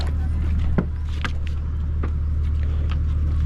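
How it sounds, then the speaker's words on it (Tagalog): A boat engine started by the captain runs with a steady low rumble near a mother boat, with rain and water around, while occasional clatters and bumps sound over the drone. "Ayun, naandar na ang makina."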